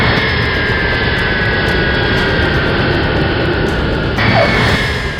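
An American Airlines jet on flight 1400, with an engine failed after takeoff, descends and lands on runway 30 left. Its loud, continuous engine roar dominates throughout, with a shift in tone near the end.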